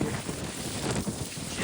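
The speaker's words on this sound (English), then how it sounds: "It is very, very windy, so I'm very sorry if you've got headphones on." Steady, loud wind buffeting the microphone, a broad rumbling roar with gusty surges throughout.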